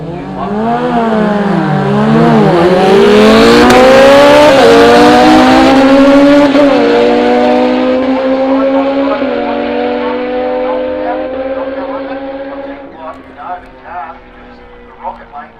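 Motorcycles at a street-series drag race launch and scream past, a loud engine roar rising in pitch through the gears and fading into the distance under an announcer's commentary.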